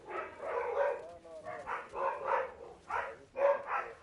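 Husky and sheepdog mix dogs barking and yipping in repeated bursts at a moderate distance, several volleys across the span with brief pauses between, no talking.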